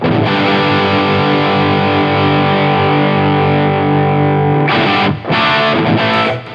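A guitar plays through a Friedman Pink Taco V2 amp with the gain up, a loud sustained distorted chord that rings for several seconds and then cuts off in a few choppy bursts.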